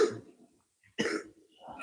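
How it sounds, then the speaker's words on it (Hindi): Someone coughs sharply at close range, two harsh bursts separated by a short pause, with a third starting at the end. "तुम खांसते बहुत हो बे"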